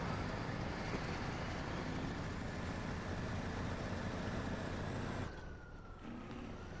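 The stock engine of a truck in the video game SnowRunner gives a loud, strained, steady drone under heavy load. Near the end the drone drops in level and its pitch slides down.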